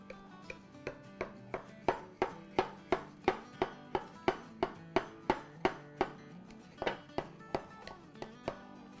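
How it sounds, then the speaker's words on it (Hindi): A sharp knife cuts through a cold, firm no-bake ice cream cake, thudding against the board in a quick, steady run of about two dozen crisp knocks, close and moderately loud with no talking. "तो एक हम शार्प नाइफ लेंगे, छुरी लेंगे, उससे हम स्लाइस निकालेंगे।"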